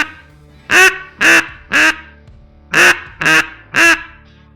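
A DR85 duck call blown with tongue-cut air produces six loud, close quacks in two groups of three, each note clipped short with a crisp, reedy edge and nothing else in the background.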